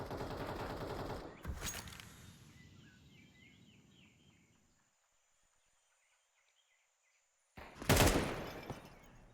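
Two loud, close bursts of gunfire ring out in a Counter-Strike-style match, one near the start and one near the end, with fainter game ambience between them and a quiet gap in the middle.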